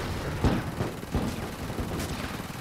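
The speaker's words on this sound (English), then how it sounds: "There's just something satisfying about those mortars firing off." Mortars firing repeatedly in the video game Attack On Toys during a backyard assault battle, several sharp booming blasts at irregular intervals over a constant rumble of combat.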